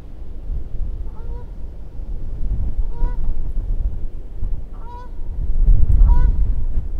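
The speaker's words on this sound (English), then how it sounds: "Sounds like the geese are coming in." Several geese honk as they fly in over a pond, repeated calls in short bursts at moderate distance over a steady low outdoor rumble.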